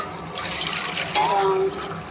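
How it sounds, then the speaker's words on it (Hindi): Milk poured into a bowl for sweet vermicelli gives a steady, close liquid rush that swells briefly louder in the middle before settling. "अब इसमें ये दूध डालूँगी"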